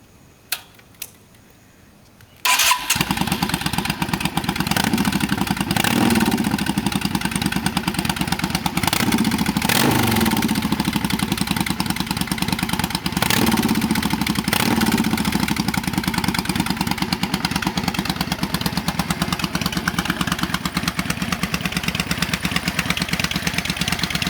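A custom Yamaha V-Star 650 motorcycle starts after a few quiet clicks, then its engine settles into a loud, steady, lumpy idle with a few light blips of the throttle, close by and with no voices.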